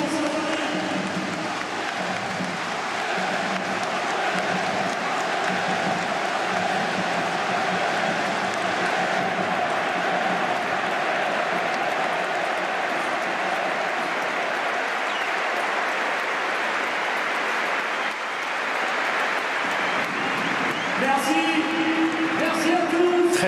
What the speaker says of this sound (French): Minute d'applaudissement.